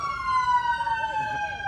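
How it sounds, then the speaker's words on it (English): A police siren wails with a long descending tone, loud and fairly close, with faint low traffic rumble underneath. "the loud ass police sirens blaring in the air."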